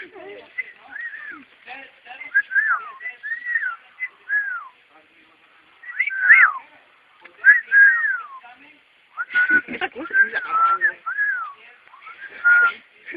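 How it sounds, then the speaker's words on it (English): A pet bird whistles in repeated short, rising-and-falling phrases, clear and close, with brief pauses between bursts and a louder, busier passage near the end. "What a whistle."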